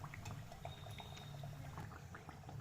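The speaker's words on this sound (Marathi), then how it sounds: "दोन्ही साईडने पण व्यवस्थित आपण याला तळून घेऊया." Matar kachori frying in hot oil, a continuous busy sizzle with fine crackling pops, steady and close throughout.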